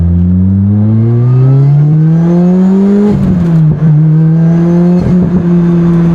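A supercharged Lotus Exige engine revs up with a rising high-pitched supercharger whine layered over it, dropping briefly between gear changes before climbing again.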